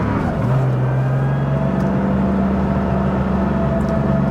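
A 1980 Porsche 911 SC Weissach engine drones loudly and steadily as the car drives, its pitch climbing in a sustained rev toward the redline, heard close and alone with no voices.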